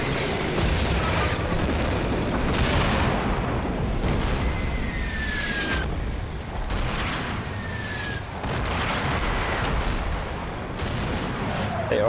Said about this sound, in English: They are really bombarding.